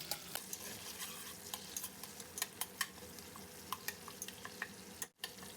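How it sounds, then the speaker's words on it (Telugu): Mint and green chillies fry in oil with bay leaves as the base for a chicken pulao, giving a steady close sizzle broken by sharp crackles and pops while the pan is stirred. "అలాగే కొంచెం పుదీనా పచ్చిమిర్చి కూడా వేసేసి కొంచెం ఆయిల్లో ఫ్రై అవనిద్దాము"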